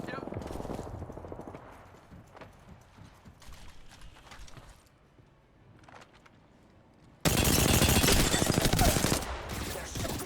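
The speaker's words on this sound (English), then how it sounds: "They're shooting at me." Gunfire rattles in the video game Apex Legends: scattered shots at first, then a loud, sustained automatic burst near the end, with players' voices talking over it.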